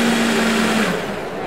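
A countertop blender whirs loudly and steadily while blending raw-food ingredients, its motor tone holding for most of the stretch before easing slightly near the end, with no talk over it.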